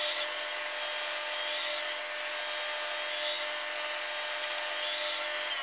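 A wood planer drones steadily as thin wood strips are fed through at an angle, with a loud constant machine whine and three brief surges in pitch and loudness as each strip passes the cutter head.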